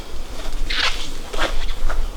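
Honeybees buzzing around an opened beehive during an autumn hive inspection, a close, fluctuating hum with a few sharper rustles or scrapes from handling the frames, and no talking.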